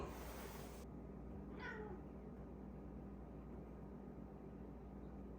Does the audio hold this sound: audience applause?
no